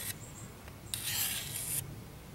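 A knife is drawn along the grit of a Work Sharp guided field sharpener, giving a faint brief scrape followed by one longer, steady, close rasping stroke.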